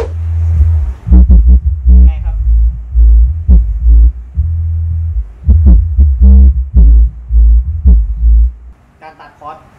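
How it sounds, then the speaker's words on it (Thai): Deep, heavy bass tones pumped through a myNPE GT 4500 power mixer with built-in crossover, throbbing in strong repeated low pulses, with a voice speaking briefly near the end. "อันนี้คือเสียงเบส"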